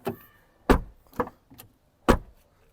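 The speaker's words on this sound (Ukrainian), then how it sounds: "дивіться, як закривається дверка, якщо чуєте" A car door shuts several times, four sharp separate thuds spaced out over a few seconds, close and clear with quiet between them and no talk.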